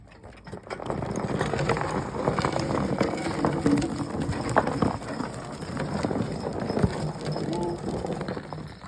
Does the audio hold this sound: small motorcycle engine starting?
no